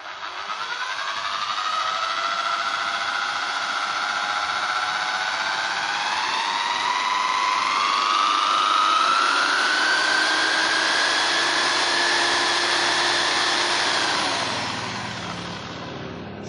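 A small modified mini dynamo generator spins up with a steady whirring motor whine that rises gradually in pitch as it speeds up, loud and close throughout before easing off at the end.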